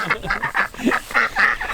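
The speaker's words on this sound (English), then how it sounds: "The mama ducks are so aggressive in protecting their babies" Mother ducks honk and quack aggressively to protect their ducklings, giving a rapid, loud run of harsh calls close by.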